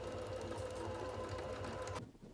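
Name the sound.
sewing machine stitching a label onto dress lining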